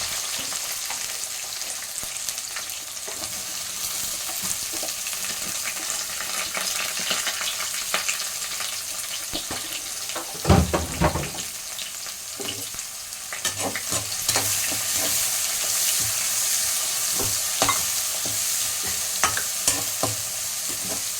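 Onions sizzle steadily in a hot pan with occasional stirring scrapes and clinks, a continuous crackling hiss at moderate volume.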